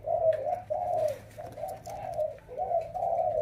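A dove coos in a run of six deep, rounded calls with short gaps between them, close and clear over a quiet background.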